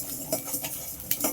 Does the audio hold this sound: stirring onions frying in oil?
yes